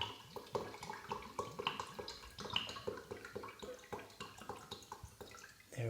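Water pours into a measuring container to top up a dilution to 500 millilitres, giving close, gurgling splashes with irregular pulses over about six seconds and no talk.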